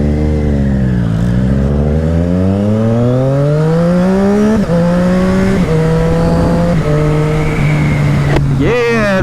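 A Triumph Rocket 3 motorcycle engine revs and accelerates hard up through several gears, loud and close, a continuous rising roar with shifts partway through.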